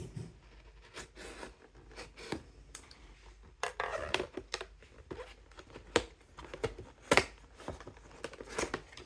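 Scissors cut open a Baby Three Kitten Wardrobe blind box package with close, crisp snips and crinkling rustles of plastic and paper, irregular and fairly quiet, with no talking.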